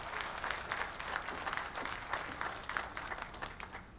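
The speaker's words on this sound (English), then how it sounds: "Please help me welcome your speaker, Rob." Audience at a governance convention session applauding to welcome a speaker, steady clapping from a sizeable crowd filling the room throughout.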